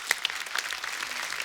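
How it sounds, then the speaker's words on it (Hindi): A comedy show studio audience claps fairly quietly, with a few sharper individual claps standing out near the start before settling into an even, moderate patter. "जोरदार तालियां हो जाए।"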